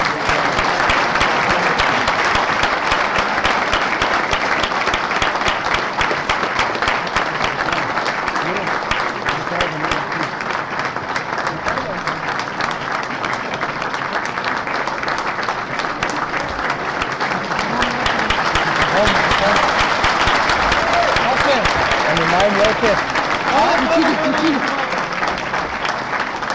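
A church congregation applauds continuously with loud, dense rapid clapping that holds steady throughout, while a voice talks over it at times.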